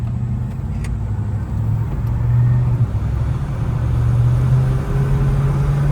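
A Chevrolet El Camino SS with a 454 V8 rumbles steadily while driving, a low continuous engine drone heard from inside the cab, loud and unbroken with slight swells.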